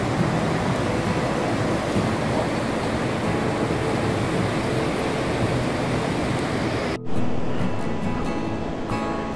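Strong floodwater overflows at Magsaysay Dam in Camiling, Tarlac, making a loud, continuous roaring rush. The roar breaks off for a moment near the end, then resumes.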